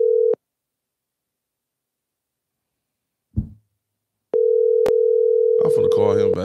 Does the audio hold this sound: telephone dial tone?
yes